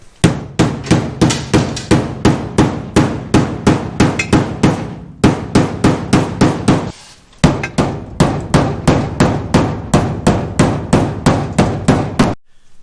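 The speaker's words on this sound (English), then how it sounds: "I just use a hammer" Rapid, steady hammer blows on the wheelhouse metal of a 1974 Chevy Nova, loud and close, ringing out in a fast rhythm with two brief pauses before continuing.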